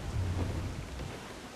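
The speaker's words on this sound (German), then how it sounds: "Übler Sturm da draußen" Brief low rumble of thunder over a wash of heavy rain during a storm at sea in Assassin's Creed IV: Black Flag, fading slightly toward the end, with no voices.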